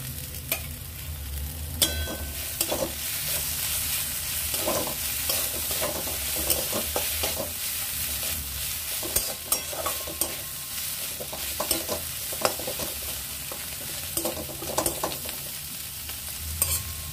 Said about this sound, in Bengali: ভেজে রাখা বেগুনটা দিয়ে ভালো করে নাড়াচাড়া করে মিশিয়ে নেব।